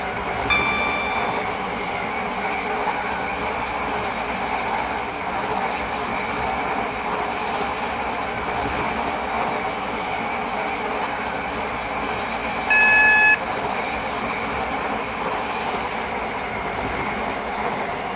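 Train running on the Airlink terminals shuttle in the Roblox rail game SCR, a steady rolling rumble with a constant high whine throughout, plus a brief louder tone near the end, with no talk.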